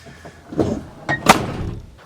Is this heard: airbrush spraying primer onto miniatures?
no